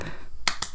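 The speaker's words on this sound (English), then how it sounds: "little flamenco applause there" Two quick, crisp finger snaps given as flamenco-style applause, close and dry, one after the other with a short gap and no talk.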